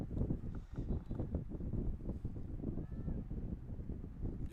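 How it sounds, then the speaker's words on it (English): Sustained wind buffets the microphone at an outdoor soccer field, a steady low rumbling roar with continual gusty fluctuations and no voices. "Wind now, sustained wind."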